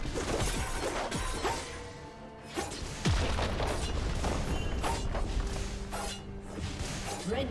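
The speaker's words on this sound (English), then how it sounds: "Red team's turret has been destroyed." A turret collapsing in a League of Legends match, heavy crashing booms and smashing impacts followed by rumbling debris, loud and layered over busy game effects.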